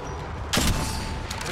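A short burst of gunfire in the mobile shooter Apex Legends Mobile cracks out once, sharp and loud, over a steady background of game ambience and low rumble.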